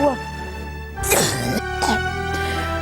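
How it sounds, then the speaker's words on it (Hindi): A woman is seized by a coughing fit, with several harsh, close coughs and throat rasps over a steady background drone. "हाय, खांसी का दौरा पड़ गया फिर से।"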